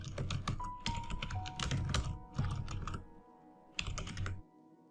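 Rapid bursts of typing on a computer keyboard, dense clattering keystrokes in quick runs with short pauses between, close and clear with no voices.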